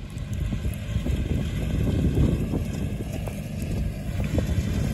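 A tractor pulls a seed drill across a field while planting organic rye. A steady, low engine rumble continues under gusting wind noise, and no one speaks.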